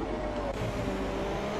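A Ferrari racing car at the Singapore street race roars past, its engine a loud steady drone with a brief surge partway through, continuous over the whole moment with no talk.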